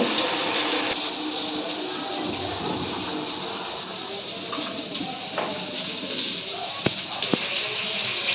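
Hot water being scooped out of a cooking pot in a kitchen, a continuous pouring and splashing wash with a few faint clinks near the end.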